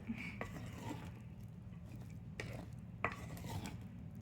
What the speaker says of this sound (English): just keep scraping and turning and folding and mixing and things like that